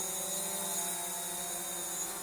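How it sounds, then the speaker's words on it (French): A Hubsan Zino H117S drone lands, its propellers giving a steady high-pitched buzzing whine with a constant tone, fairly faint and alone. "Le drone n'entame pas un RTH, il se pose."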